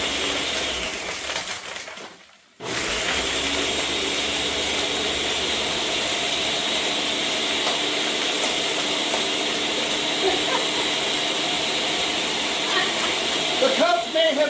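A kitchen blender grinds ice and cherry Coke into a slushie, a loud steady whirring churn that cuts out briefly near the start, then runs on continuously with voices talking over it.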